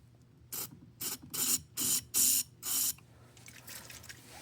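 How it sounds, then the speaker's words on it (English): Liquid Wrench penetrating oil is sprayed into a MAC AH650 air hammer in six short, close hissing bursts of steady rhythm over a faint background hum, then silence. "So give it a good spray down the hole"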